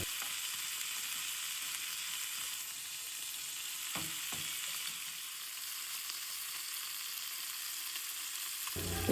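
Fish frying in a pan, a steady, fairly quiet hiss of hot oil running continuously with a couple of brief clicks partway through and a soft bump at the end.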